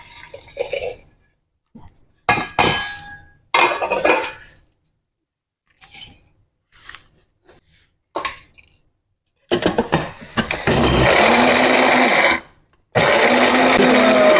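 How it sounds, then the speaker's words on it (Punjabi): A mixer grinder grinds homemade garam masala spices in loud, steady bursts of whirring, broken by a pause, after scattered clinks and handling of the jar. "ਲਓ ਜੀ ਆ ਹੁਣ ਮਿਕਸੀ ਲੈ ਲਈ"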